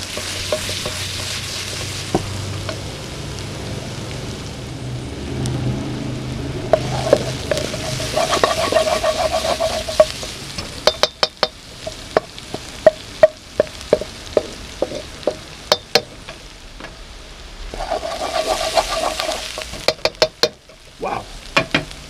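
Lemongrass, chili and lime leaves frying in a pan for an octopus red curry, a steady close sizzle with stirring scrapes and sharp spatula taps against the pan partway through, no talking.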